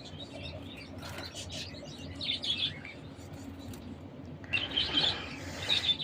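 Budgerigars chirp and tweet in scattered bursts while eating, over a steady background hum, with a livelier flurry of calls toward the end.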